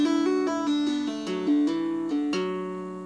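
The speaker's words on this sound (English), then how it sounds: "Do it again with the hammer-ons and the pull-offs." Guitar tune (The Frost Is All Over) played with hammer-ons and pull-offs after an opening chord strum, a smooth legato run of plucked notes ringing together, steady and close, with no voices.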